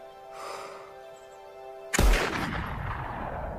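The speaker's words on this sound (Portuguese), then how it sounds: "Ele caiu. Belo tiro, filho." A rifle shot rings out during a hunt, one sharp loud crack with a rolling echo that decays over the next seconds, after a quiet stretch with a faint steady tone.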